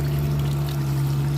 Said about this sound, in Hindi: ये कवाई का वो चश्मा है जिसका पानी भी माशाल्लाह बहुत ही अच्छा है